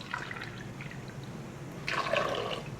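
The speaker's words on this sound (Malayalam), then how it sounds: "ഇനി നമുക്ക് ഇതിലോട്ട് ആവശ്യത്തിന് വെള്ളം ഒഴിച്ച് കൊടുക്കണം" Water is poured into a pot of soaked white chickpeas while cooking a side dish, a quiet splash and trickle that grows louder near the end, with no talking.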